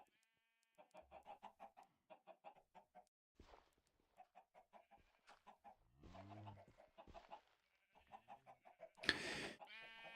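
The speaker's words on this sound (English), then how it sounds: "Those chickens are annoying." Chickens in a modded Minecraft game clucking in quick repeated bursts of short rhythmic clucks, with a sharp louder squawk near the end; no talking.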